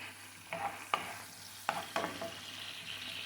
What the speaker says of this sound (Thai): ผัดไปค่ะ